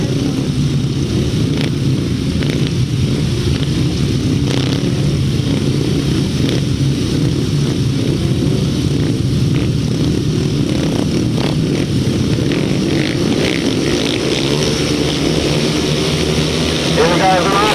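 Grasstrack racing motorcycles roar away at the start of a 2005 British Masters qualifier, a dense loud continuous engine drone with rising and falling revs, heard under a commentator's talk.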